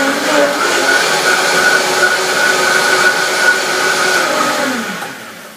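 A kitchen blender whizzes up chilli ingredients with cinnamon, giving a loud, steady high-pitched whir that holds for several seconds before spinning down at the end.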